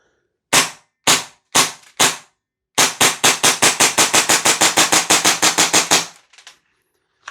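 A Tokyo Marui airsoft pistol fires four sharp, evenly spaced cracks, then a rapid string of about eighteen snappy shots in quick rhythm, loud and close with no voices.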